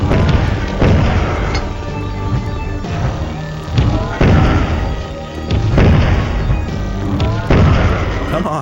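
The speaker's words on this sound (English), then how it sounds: "this might be the one case where the fucking grenade launcher is remotely useful" A multi-round grenade launcher in a video game fires and detonates over and over: heavy booming thuds and blasts in an irregular series, loud and close over game sound.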